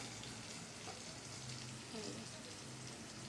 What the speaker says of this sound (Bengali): কাঁকরোল ভাজাটা প্রায় হয়ে গেছে এবার কাঁকরোল ভাজাটাও নামিয়ে দেবো